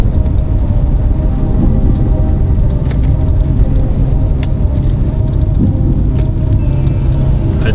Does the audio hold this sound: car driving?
yes